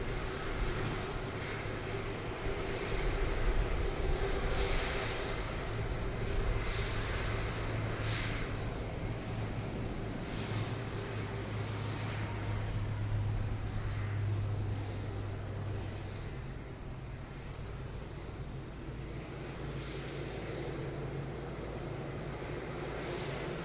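An airliner taking off at Sydney Airport, a long steady jet engine roar heard from a distance, swelling slightly then holding, with no other sounds.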